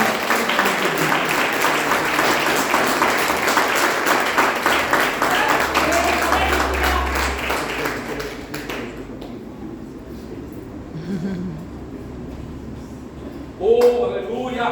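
A church congregation at a family worship service applauds in a full, sustained round of clapping that fades out about two-thirds of the way through, leaving quieter room noise and a brief sound near the end.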